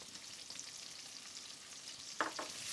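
Sliced onions fry with whole spices in a pot, giving a quiet steady hiss, with two quick utensil taps near the end.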